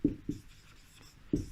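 Chalk or marker strokes on a classroom board during a physics lesson, three short scratchy bursts with a pause before the last, close and fairly quiet.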